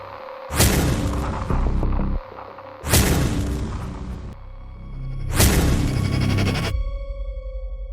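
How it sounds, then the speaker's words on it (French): Three heavy booming thuds pound against a bedroom floor at spaced intervals, each long and resonant, loud and close, with a low rumble lingering between them. "Quelque chose frappait contre le plancher de la chambre, juste au-dessus de ma tête"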